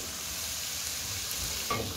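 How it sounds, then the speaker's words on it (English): Corn soup with asparagus simmers in a pot on the stove, giving a steady close bubbling and sizzling hiss with one small clink near the end and no talk. "just let it simmer, leave it for a while."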